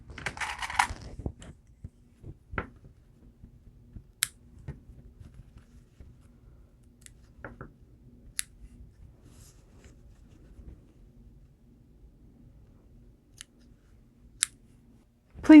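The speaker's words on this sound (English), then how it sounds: "There's just a few strands that need to be trimmed on the front." Scissors snip loose thread strands on a foundation paper pieced quilt block, a handful of quick, crisp cuts spaced out over a quiet room with small handling rustles between them.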